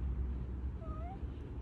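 A cat in an RV gives one short, faint meow with a rising-then-falling pitch over a low steady background hum, with no talk.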